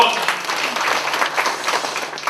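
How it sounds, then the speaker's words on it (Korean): Audience applause welcoming a speaker at a Hangul Day ceremony, a steady, dense patter of clapping from a crowd, fairly close and continuous throughout. "큰 박수로 맞이해 주십시오"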